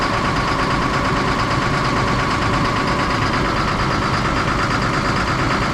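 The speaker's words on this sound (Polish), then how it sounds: "Ciągnik, silnik faktycznie troszeczkę nierówno pracuje." A John Deere 6830 tractor's diesel engine with failing injectors idles loudly and continuously close by, its chugging slightly uneven and knocking.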